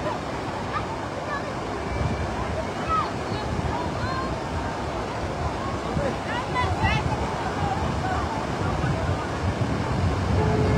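Floodwater of Wadi Isil at Boumalne Dades surges in a loud, continuous broadband roar, close by, with faint voices and wind buffeting underneath.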